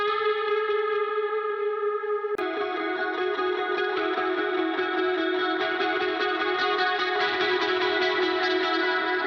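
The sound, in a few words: bit crush effect on guitar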